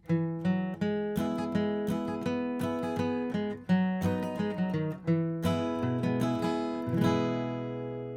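Acoustic guitar plays the third part of 'Wildwood Flower', a plucked melody with a few quick strums, notes ringing clearly in a steady flow before a final sustained chord.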